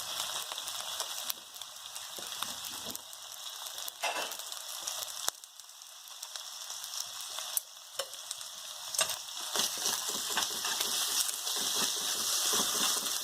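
Chicken pieces for Hawaiian chicken long rice cooking in a pan, a steady close sizzle with frequent stirring scrapes and clicks running throughout, gradually growing louder, with no talking.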